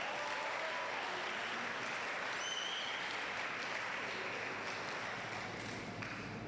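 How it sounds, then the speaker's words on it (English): Crowd at a Red Bull Basement local selection event gives a steady, continuous round of applause, with a few faint whistles and tones carrying through the dense clapping. "can we hear another round of applause?"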